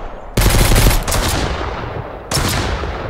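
Enemy gunfire in the survival game Mist Survival rattles out in two loud, sharp automatic bursts separated by a short pause, close and harsh, with a fading tail after each burst.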